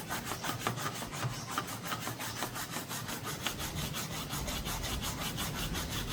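Corrosion is scrubbed off a metal surface with quick repeated back-and-forth scraping strokes, an even, close rasping rhythm that continues for about six seconds without any talking.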